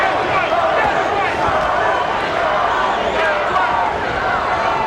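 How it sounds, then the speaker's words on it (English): A boxing arena crowd chanting a fighter's name during a televised bout, a dense continuous roar of voices under a commentator's voice. "Now the crowd begins to chant, Toney, Toney, Toney."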